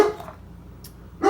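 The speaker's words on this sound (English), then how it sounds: "that's my dog" Dog barking, a short sharp bark at the start and another rising at the end with quiet room tone between, fairly close and loud.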